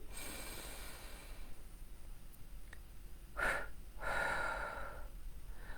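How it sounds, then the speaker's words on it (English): A deep breath in and out during a calming anxiety-release exercise: a long, soft, airy inhale followed by a fuller exhale, close and alone over steady low background hiss. "Okay, deep breath in."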